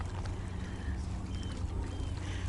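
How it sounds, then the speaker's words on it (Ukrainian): Small Pacific Ocean waves lap gently at the shore near Victoria, British Columbia, a steady low, soft wash of water with a constant rumbling undertone and no voices. "хвильки, як до берега плещуться"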